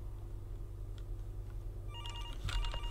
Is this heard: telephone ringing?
yes